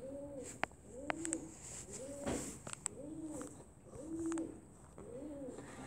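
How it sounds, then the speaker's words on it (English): Pigeons coo softly in the background, a repeating rhythmic series of low, rounded calls about once a second, with a few faint clicks between them. "I don't know if you can hear the pigeons purring in the background"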